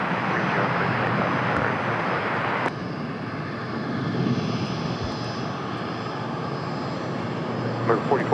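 A fixed-wing aircraft roars down a runway on its takeoff roll at a busy airport, a loud broadband engine rush that holds steady throughout, with radio tower chatter over it at the start.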